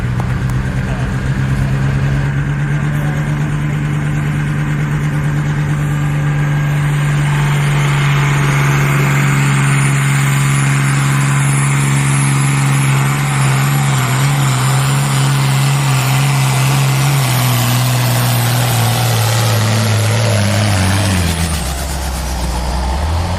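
A tractor engine at a tractor pull during a threshermen's reunion in Pontiac, Illinois, a loud, steady low drone held for a long stretch before it bogs down near the end, with no talk over it.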